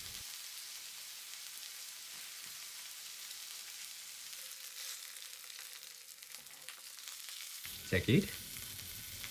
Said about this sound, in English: saute the side of the pork for about 2 minutes and 30 seconds